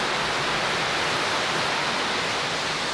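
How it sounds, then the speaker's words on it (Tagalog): Heavy rain pours steadily, a dense, even hiss that stays loud and unbroken throughout, with no voices over it. "Grabe, lakas ng ulan"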